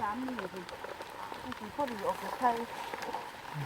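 Rain pattering steadily outdoors during mushroom foraging for termite and amanita mushrooms, a soft continuous hiss of drops with someone talking over it throughout.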